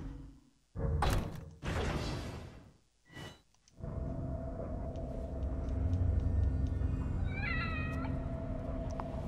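In The Evil Within's The Consequence DLC, a cat lets out a few loud, drawn-out meows close by, followed by a low rumbling ambience with faint higher tones.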